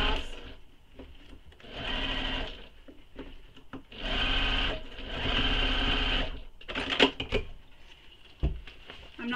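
A sewing machine stitches across the bottom of a bag lining in several bursts, each a loud, fast whirring run of a second or two, separated by short pauses filled with small handling clicks and rustles.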